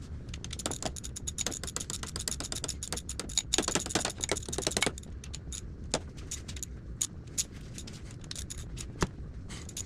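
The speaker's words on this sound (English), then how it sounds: "now I'm going over these with my torque wrench in the same sequence at 25 foot-pounds" A torque wrench tightens the intake manifold bolts on a 352 FE engine, giving rapid ratcheting clicks in bursts followed by sparser single clicks and metallic taps, close by with no voices.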